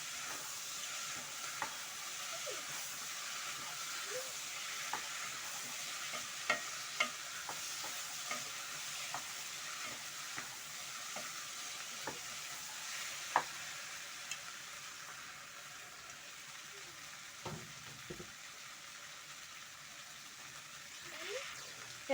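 Black beans (njahi) stirred as they cook in a pot, a steady low sizzle and bubbling under scattered utensil taps and scrapes, close and continuous, with no talk.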